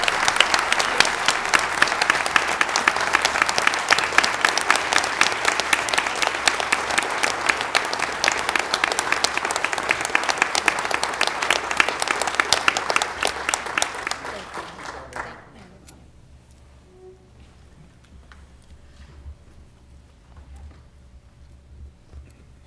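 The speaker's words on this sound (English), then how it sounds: "Let's give them a big round of applause." Sustained applause from a sizable crowd at a city council meeting in Mobile, Alabama, dense and steady for about fifteen seconds, then stopping abruptly and leaving a quiet room with faint murmurs.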